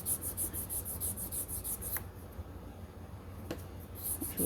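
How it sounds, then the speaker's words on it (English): Polishing the piston of a model stationary steam engine: quiet, close rhythmic rubbing strokes, steady and repetitive, with a couple of small clicks. "Let's give my piston a bit of a polish."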